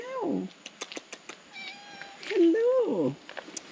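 A small cat on a beach in Phuket, Thailand gives two clear meows close by, one at the start and a longer one midway. A person speaks softly between the meows and imitates them.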